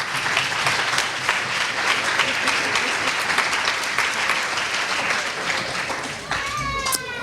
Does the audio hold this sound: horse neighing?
no